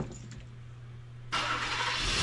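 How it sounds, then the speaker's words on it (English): A car engine in a garage starts up abruptly, jumping from a quiet low hum to a loud, steady roar. "The sound of a car starting up and driving away"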